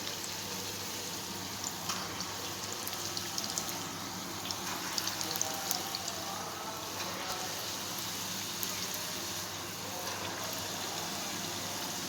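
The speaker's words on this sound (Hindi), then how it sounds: "अब मैं इसमें डालूँगी कोफ्ते जितने हमारे आएंगे और कोफ्तों को हम करेंगे फ्राई।" Chicken koftas frying in hot oil in a pan, making a steady, dense crackling sizzle that carries on evenly throughout. Close and moderately loud, with no voices over it.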